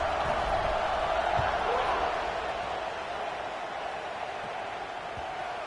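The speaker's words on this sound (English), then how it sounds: "this crowd is buzzing after that last score" A large crowd at a college football game, UCLA against Florida, buzzing in a steady, dense roar that holds level throughout, with a broadcast voice faintly mixed beneath.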